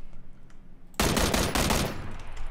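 PUBG gunfire that starts abruptly after a second of near quiet, then keeps up as loud, close, rapid automatic shots for the rest of the moment.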